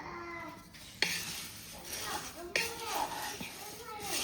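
Poha (flattened rice) dry-roasting in a pan without oil as it is stirred until crisp, giving a steady dry rustling hiss with a couple of sharp scrapes, heard close under a voice talking.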